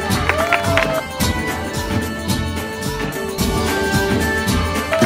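A lively crowd at a community game show cheers and claps for a winner, a dense, loud wash of clapping and raised voices with music or noise underneath, continuous and close.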